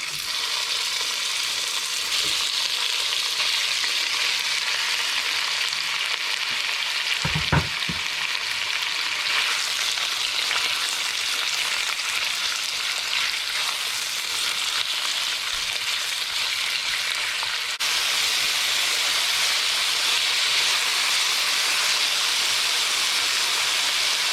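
Thinly sliced, partially frozen beef fries in a pan with a steady, loud sizzle that holds across the whole stretch, broken once by a brief clatter of the meat or a utensil near the start.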